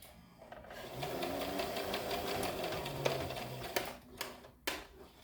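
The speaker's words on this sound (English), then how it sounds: "actually gonna stitch, because I have to turn this out on the right side, and I don't like that I didn't back stitch" A sewing machine stitches fabric for a pair of pants in a steady, continuous mechanical whir, a few sharp clicks and taps breaking in near the end.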